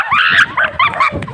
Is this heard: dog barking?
yes